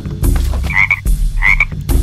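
Frogs croak in a swampy grove in The Legend of Willow Valley, a video game, with two bright, chirpy croaks over steady game music and low thumps. Both croaks are close and loud, with no talking.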